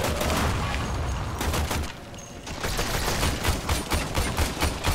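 Gunfire from Warframe on a defense map on Venus rattles in dense, rapid bursts, loud and sustained, with a short lull before the volleys resume.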